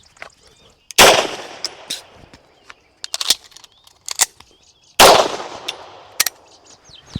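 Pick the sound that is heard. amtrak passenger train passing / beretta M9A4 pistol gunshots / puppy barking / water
beretta M9A4 pistol gunshots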